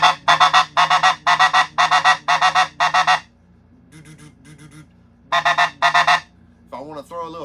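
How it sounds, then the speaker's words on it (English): A snow goose call played in a rapid murmur beatboxing style: bursts of choppy, vibrating honk-like notes in quick rhythmic clusters, a quieter softer stretch, then more bursts, loud and close. "That murmur scratch game on a snow goose call, we call it beatboxing."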